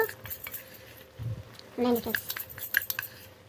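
A spoon scoops spoonfuls of an ingredient into a pan while mango pickle is being made, giving a few soft metallic clinks and scrapes with brief gaps between them. A voice talks faintly in the background.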